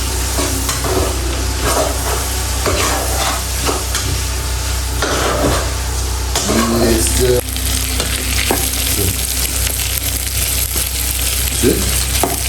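Egusi soup with pieces of smoked fish sizzles and fries in a pot while being stirred, a continuous close hiss with scraping spoon strokes against the pot throughout.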